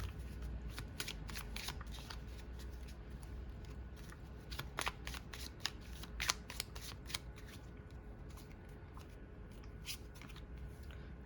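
Tarot cards handled after being dropped: soft, rapid riffling and flicking of card edges in uneven bursts, close and quiet over a low background hum, with no voices.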